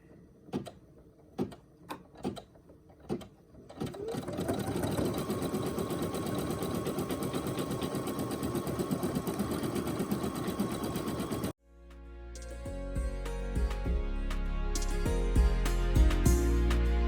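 Brother NQ1700E or PE800 embroidery machine stitching a design into a fuzzy sock, a few sharp knocks at first, then a steady, dense mechanical whirring that stops abruptly and resumes with a heavier, tonal hum.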